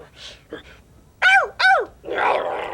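A dog barks twice in sharp, rising-falling bursts, then follows with a rough, noisy growl, preceded by a couple of small grunts, close and loud.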